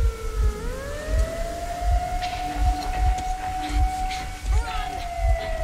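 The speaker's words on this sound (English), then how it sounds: "An air raid siren?" Air raid siren in the video game Metro Exodus, set in Moscow, winding up into a long wailing tone that rises and then holds, heard over rhythmic low thumps and game background sound.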